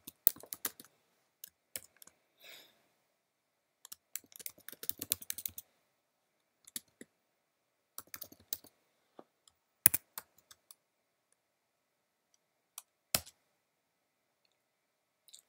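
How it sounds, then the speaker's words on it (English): Keys clatter in short irregular bursts of typing on a computer keyboard, close and crisp, separated by silent pauses. "We can demonstrate this by typing a recognizable command."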